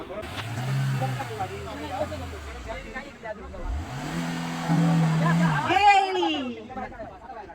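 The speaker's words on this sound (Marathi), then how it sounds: "निघाली गाडी." A car engine revving and pulling away after being hauled out of a pothole near a beach, rising and falling in pitch with a second surge toward the end, heard under lively talk and background chatter.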